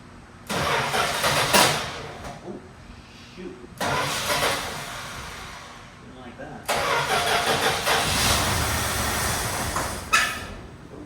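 A Mopar Slant 6 engine is cranked and catches in three separate tries, each time rumbling briefly at a rough idle, loud and close, with people talking throughout.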